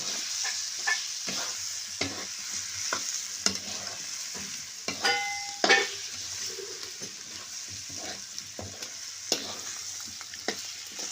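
Onion and potato vegetable is stirred in a pan with a spoon, giving steady scraping strokes and occasional knocks over a continuous soft sizzle of frying, close up and without talk.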